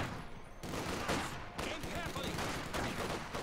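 Bursts of small-arms and machine-gun fire trade back and forth between units in a World War II strategy game, rapid crackling volleys at moderate distance, with a commentator talking over them.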